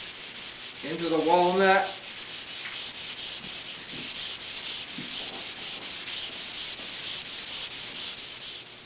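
Fine-grit hand sanding on a walnut veneer executive desk top before aniline dye, a steady soft rubbing that continues throughout after a brief spoken phrase near the start.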